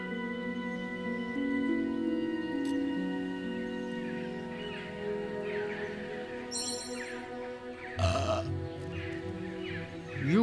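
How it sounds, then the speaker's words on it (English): Belching in the Fable Anniversary video game, a drawn-out, tonal belch over game ambience with chirping birds and a sharp, brief noise near the end. "Try belching at him."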